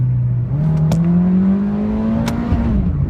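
An automatic Honda City engine pulls away from a standstill and climbs steadily in pitch as the car accelerates. The drone is loud and close and runs unbroken for about three seconds.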